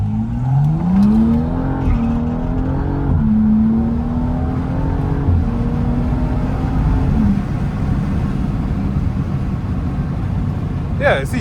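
BMW M235i accelerating hard, its engine note rising steadily through the revs in a long pull with a shift partway, loud from inside the cabin, with a voice talking over it.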